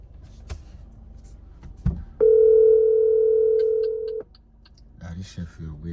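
A steady telephone dial tone rings out loud and clear for about two seconds while someone places a call, with a voice talking quietly before and after it.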